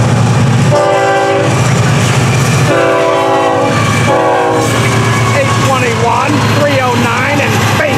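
FEC freight train with auto racks on the head end, passing at milepost 240 southbound, sounds several long, loud horn blasts over the steady roar of the train and the rolling clatter of its cars.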